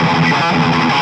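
A palm-muted thrash metal riff on a high-gain, heavily distorted electric guitar is played hard, a brief, dense chugging burst close and loud with no voice.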